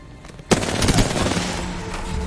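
Automatic gunfire in Apex Legends: a sudden burst of rapid shots breaking out after a brief quiet, close and loud, then trailing into echoing game noise.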